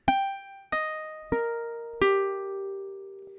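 Four plucked ukulele notes ring out one after another at roughly even spacing, each sustaining and fading, fingerpicked from a song in a close, solo demonstration.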